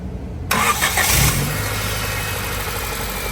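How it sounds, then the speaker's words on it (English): A Honda CRX with a single-cam VTEC engine and a wobbling aftermarket crank pulley starts up abruptly, then settles into a loud, steady idle up close. "It's got a single cam Vtec motor in there, so it's got a crank pulley wobble."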